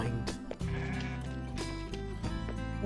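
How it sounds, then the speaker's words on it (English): A sheep bleats in the video game Ancient Ys Vanished: Final Chapter. Several loud, wavering bleats sound over the game's music and effects, with no talking. "I didn't appreciate that sheep answering."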